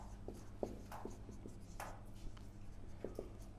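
Pen scratching across paper in a Year 7 maths lesson on ratio problems: a series of short, close scribbling strokes at an uneven rhythm over a faint steady hum.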